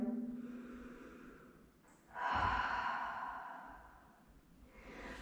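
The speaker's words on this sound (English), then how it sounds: "Taking a cleansing breath." A slow cleansing breath taken during a gentle hatha yoga stretch, one full airy inhale swelling after a quiet moment and easing off into a long soft exhale, close and alone.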